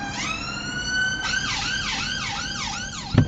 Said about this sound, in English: I've got emergency vehicle coming from my right